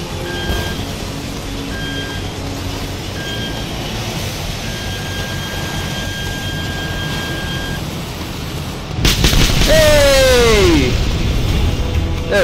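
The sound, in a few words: jet engines in Just Cause 2 video game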